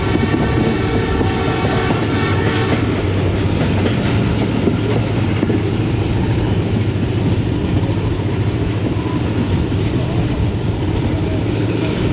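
Pakistani Khyber Mail passenger train hauled by a ZC30 diesel locomotive rolls slowly through Lahore after clearing the junction yard, a loud continuous rumble with wheel clatter on rails, steady and close throughout.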